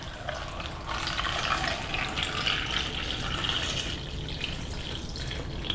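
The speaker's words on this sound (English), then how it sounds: "we're going to add filtered water just to the top" Filtered water pours into a pot for hot apple cider, a steady splashing stream running for several seconds at close range with no talking.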